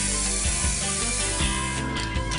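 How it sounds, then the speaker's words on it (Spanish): Aerosol spray paint applied to a picture frame being made, heard up close as short hissing bursts mixed with rattling, ratchet-like clicks of the can. "con el spray se hace de una manera rápida, además la pintura queda uniforme"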